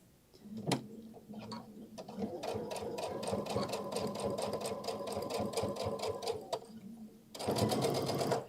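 A sewing machine stitches a bag at a long 3.5 stitch length, its steady rapid motor whir and needle ticking running close and loud for several seconds before stopping briefly and restarting.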